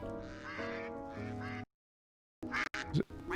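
A duck quacks in the video game Stonehearth, with a run of nasal, buzzy calls up close followed by a gap of silence and then a few more quick, harsh quacks.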